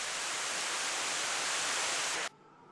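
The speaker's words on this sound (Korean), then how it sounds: "박물관 입구에는 인공폭포가 만들어졌고 여기에서 만들어지는 물소리와 물보라로 물의 생명력을 연상토록 했다." An artificial waterfall at the entrance of the Sayama reservoir museum roars in a loud, dense, steady rush of falling water before cutting off abruptly near the end.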